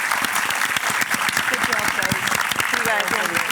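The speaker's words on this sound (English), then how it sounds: "let's start with a big round of applause for the event as a whole" An audience at a leadership and AI summit applauds after a panel event with dense, steady clapping that fills the whole stretch; a few voices rise over the clapping near the end.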